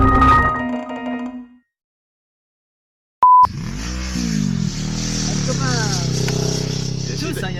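A Yamaha R6 motorcycle accelerates past on the road, its engine rising in pitch and then fading under heavy wind roar. A short electronic beep sounds just before it.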